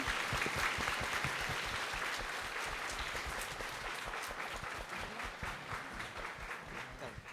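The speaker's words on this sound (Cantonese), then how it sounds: "請大家用最熱烈嘅掌聲歡迎陳醫生" Sustained applause fills a hall as the audience welcomes a doctor to the stage at a secondary school graduation ceremony, dense and steady throughout with slight fading toward the end.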